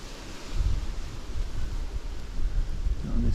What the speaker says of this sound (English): Not in this wind anyway.